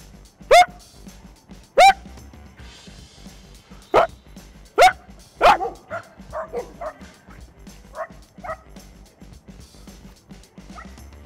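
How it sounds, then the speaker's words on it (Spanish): A dog barks in a park with several sharp, loud barks spaced apart, followed by a string of softer yips and whimpers. There is no talking. "¿Es un perro?"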